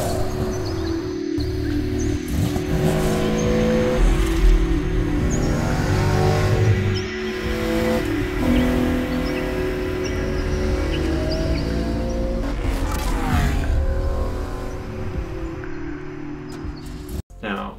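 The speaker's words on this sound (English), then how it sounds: "Mixed in with some slow motion product shots and the beautiful sound of the car." A classic Porsche 911 engine revs and accelerates through several gear changes, rising and falling in pitch, loud and close, with brief tire noise and passes.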